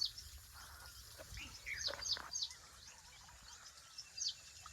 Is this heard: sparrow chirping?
yes